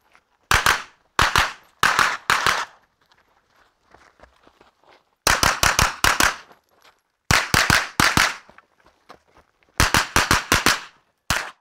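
Carbine fired during a movement shooting drill in quick groups of two to four sharp, loud shots. Short quiet gaps separate each group, with faint footsteps and shuffling in between.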